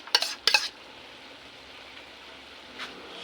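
Egg going into sautéed bitter gourd (ginisang ampalaya) in a pan, two quick bursts of clattering and stirring, then a quiet frying hiss and one softer scrape near the end.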